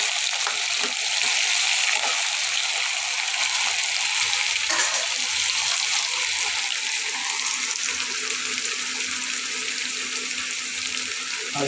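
Potatoes frying in a pan, a steady hissing sizzle that holds evenly throughout at a moderate level.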